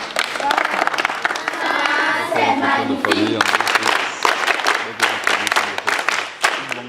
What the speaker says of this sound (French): On applaudit très fort pour maman.